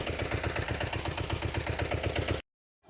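A tractor engine chugs steadily at idle with a rhythmic low throb, close and loud, then cuts off abruptly near the end.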